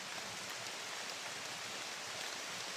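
Steady rain falls in a forest, a soft even hiss of drops on leaves and ground, faint and constant with no voices.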